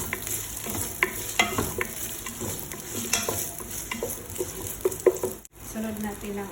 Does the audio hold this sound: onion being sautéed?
yes